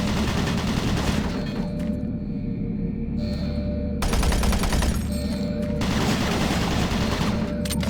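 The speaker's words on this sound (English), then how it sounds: "Warning. Automated turret guns online." Automated turret guns in Doom 3 firing long, loud, sustained bursts of rapid shots, stopping briefly and then resuming with dull booms underneath.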